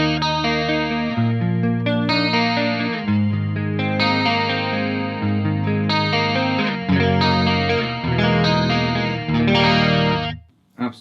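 An electric guitar played through a Mesa Dual Rectifier clean capture on a Quad Cortex, with a run of ringing chords and notes in a bright, even, compressed-sounding tone, alone and close, ending in a brief fade.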